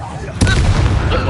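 A Confringo fire spell blast goes off in the Hogwarts Legacy video game, a sudden loud burst of impact noise that hangs on as a dense rumbling roar after the hit.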